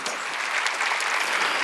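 Congregation in a church clapping during a Sunday worship service, a steady, dense wash of many hands, fairly loud and continuous through the short moment, with no talking over it.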